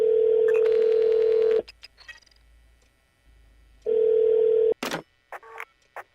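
Ringback tone on a phone in the detective game Shadows of Doubt sounds in two long steady electronic bursts separated by quiet, followed by a few short clicks and thumps.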